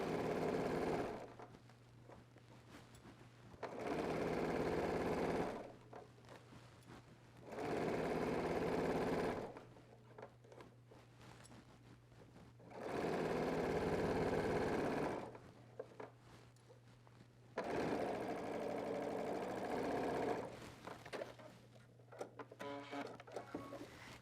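Sewing machine stitching a men's dress shirt in four bursts of steady whirring, each several seconds long, separated by quiet pauses, close and fairly loud.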